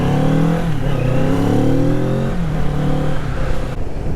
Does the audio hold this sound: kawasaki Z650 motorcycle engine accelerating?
yes